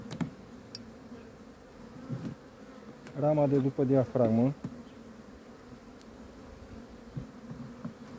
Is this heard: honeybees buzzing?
yes